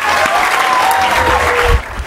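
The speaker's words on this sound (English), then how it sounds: "Can we give him a round of applause?" An audience claps for a first-time author being introduced at a book signing, a dense, steady round of applause filling about two seconds, with a whistle-like tone above it and a brief louder thump near the end.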